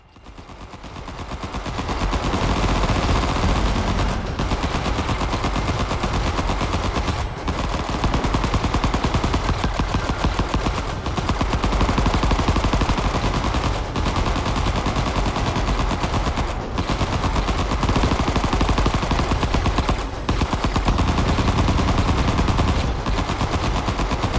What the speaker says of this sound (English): the machine gun should rip into them